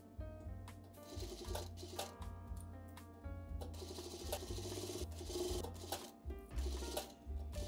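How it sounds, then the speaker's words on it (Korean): A sewing machine stitching a shirt collar onto the outer collar band runs in short rhythmic bursts of rapid stitching, separated by brief pauses, close and clear. "지금은 겉밴드 위에 카라를 올려서 박음질을 하고 있고요"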